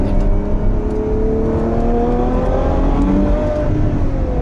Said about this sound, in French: Techniquement, cette 812 Superfast, c'est le meilleur moteur du marché